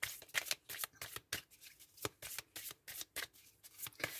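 Tarot cards being shuffled by hand, a quiet, close, steady riffle of rapid papery flicks and slaps repeating throughout, with no voice.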